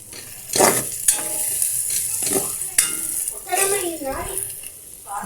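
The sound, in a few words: sizzling of aromatics sautéed for ginisang repolyo (sautéed cabbage)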